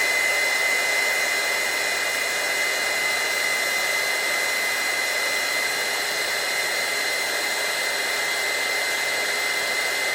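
A heat gun blows a steady, loud, even hiss of hot air onto a shrink plastic leaf bead held on a pin in a mold, the whoosh continuous and unbroken with no voices.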